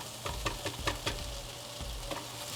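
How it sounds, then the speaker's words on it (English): Onion, lentils and spices frying in oil as a spoon stirs them, a steady soft sizzle broken by several quick scraping stirs close by. "Do a quick stir to get the onion, lentil, and the spices mixed up and distribute it."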